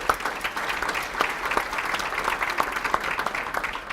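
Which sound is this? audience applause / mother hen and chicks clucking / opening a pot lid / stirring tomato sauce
audience applause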